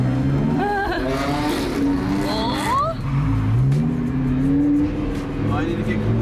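A sports car driven in Corsa mode accelerates, its engine note climbing and surging in waves of revs, close and loud, while people talk over it.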